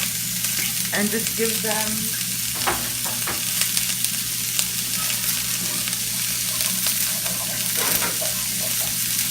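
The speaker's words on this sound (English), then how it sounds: "I'm just giving them just like a quick like fry, just because I personally don't like the taste of raw onion or bell pepper" Onion and bell pepper fry in a pan with a steady, loud sizzle that stays unbroken throughout, and a few stirring scrapes come through it. A voice speaks briefly at the start.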